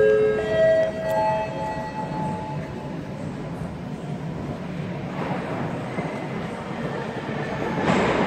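Moscow metro train running through a tunnel or station, a steady loud rumble of wheels and motor with a rising whine from the traction drive, no talking.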